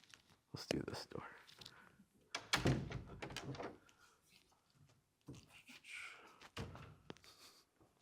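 A door is opened and closed during a Steadicam walkthrough, giving a few dull thunks and clicks. People talk over and between the door sounds.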